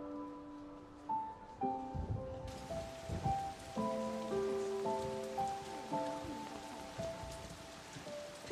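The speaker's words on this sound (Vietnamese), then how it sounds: "Trận mưa này không thể tạnh ngay được đâu." Steady rain patters down outdoors on a palace grounds, a continuous wash of falling drops that holds throughout, set beneath tonal music with plucked and sustained notes.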